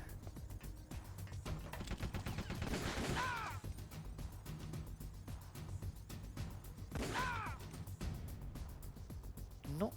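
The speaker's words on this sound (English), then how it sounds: "It's time for the M1 tank" Heavy M1 tank cannon fire and explosive blasts in the video game Metal Gear Solid: The Twin Snakes, booming in a few bursts over a steady game din, with voices faintly present.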